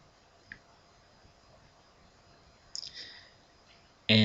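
A few soft mouse clicks in a quiet room, an isolated tick near the start and a small cluster midway, then a sharper louder click or bump right at the end.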